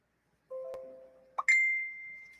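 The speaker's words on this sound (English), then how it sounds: "I think that's a Facebook notification." A Facebook notification chime plays twice, a steady tone followed by a brighter rising ding that rings out, clear and alone in a quiet room.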